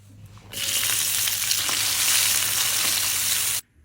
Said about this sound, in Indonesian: Sambil kita tumis bumbunya